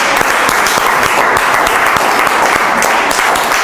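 Loud, dense applause from an audience at a presentation on trampoline experiences, continuous and even throughout, close and full without a break.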